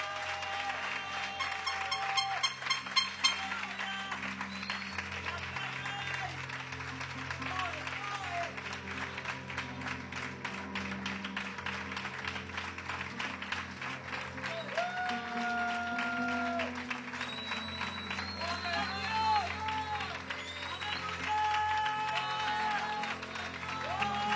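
Church congregation applauding loudly during a worship service, sustained dense clapping from a crowd that continues throughout, with voices and some music audible underneath.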